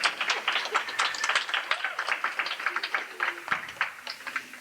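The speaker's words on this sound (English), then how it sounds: "you guys are super nice for clapping after my one poem" Audience clapping after a single poem at a poetry reading, a steady patter of many hands that stays fairly even throughout before easing off slightly near the end.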